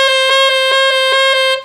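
Saxophone playing a false-fingered A with right-hand fingers 1, 2 and 3 added: four clear, reedy tongued notes repeated evenly at close range, loud and alone.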